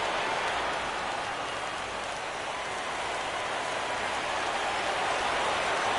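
Steady rain hisses continuously across a baseball stadium during a World Series game, a dense, even wash of noise with no breaks.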